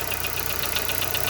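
A Chevrolet Corsa engine idles with a steady mechanical tapping, a fast even tick running through a loud, close engine hum with no voices.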